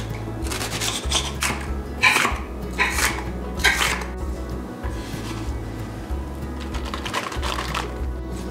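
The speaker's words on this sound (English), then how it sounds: "I'm going to cut some of this red onion." A knife chops red onion on a cutting board in a home kitchen, giving a run of close, crisp knocks and taps in an uneven rhythm, with no talk.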